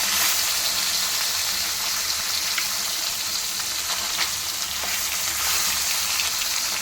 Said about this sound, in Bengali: আর সেইভাবেই আমি ভেজে নিচ্ছি।